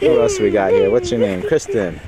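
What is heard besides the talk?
No everyday noises stand out.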